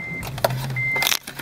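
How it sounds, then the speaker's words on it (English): Car starting up: a short electric whirr of the starter, then the engine catching into a low idle hum, with a few clicks and knocks close by. "I'm going to reattach this there and restart the car"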